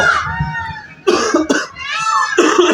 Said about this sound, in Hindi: देखो मुझे खांसी भी हो गई